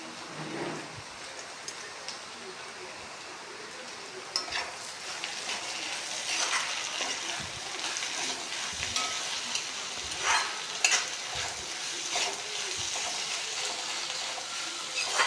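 Prawn masala fries in a pan with chopped tomato added, giving a steady, soft sizzle with occasional stirring scrapes and pops, fairly quiet and with no voices.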